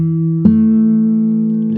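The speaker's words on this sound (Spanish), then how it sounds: "Toco quinta y cuarta," Classical guitar notes sustained on the fifth and fourth strings, a held tone cut by a fresh pluck partway through, ringing clear and close with no talk.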